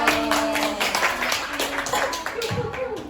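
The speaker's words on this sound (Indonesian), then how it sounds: "Tepuk tangan." Scattered hand claps from a small classroom group during a teaching-practice session at an Islamic college. The claps are quick and uneven, a few seconds long, with voices and background chatter mixed in.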